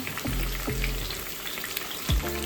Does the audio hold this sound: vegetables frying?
yes